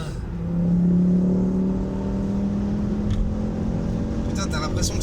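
A Tesla Model 3 electric car accelerates with a rising whine that swells, then settles into a steady hum with road noise, and people talk over it.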